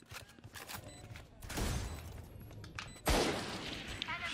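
Bursts of gunfire in the video game Valorant, a loud rapid fusillade of shots with sharp onsets and booming impacts, surging midway and again near the end over a busy game mix.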